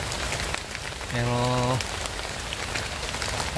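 Steady rain falls during a storm, a continuous hiss filling the background throughout, with a brief tonal voice-like sound in the middle.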